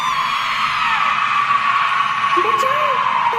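A girl's shrill, sustained scream from a horror tale of a haunted mansion, holding a steady piercing pitch for several seconds at constant loudness, with a brief wavering cry near the end.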